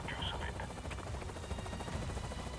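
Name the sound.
helicopter arriving in Avatar: Frontiers of Pandora video game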